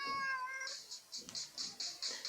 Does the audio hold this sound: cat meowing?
yes